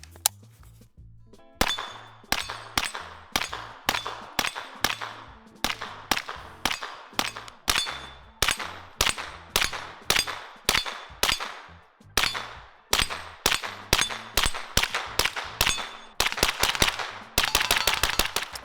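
Rapid gunfire from a Kalashnikov USA KR-9 SBR rifle, loud close sharp shots in fast strings and bursts with short gaps, ending in a dense volley.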